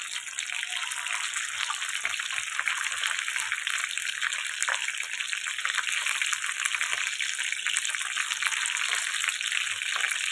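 Battered prawn pakora frying in hot oil over a low flame, a steady dense sizzle and crackle running evenly throughout at close range, with no talking.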